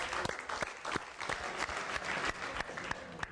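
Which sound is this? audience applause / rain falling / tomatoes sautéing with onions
audience applause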